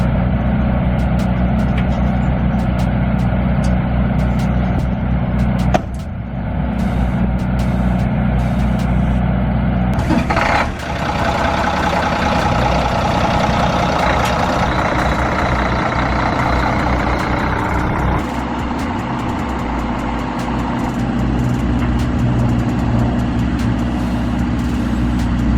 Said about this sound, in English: Just pulled the hauler out of the way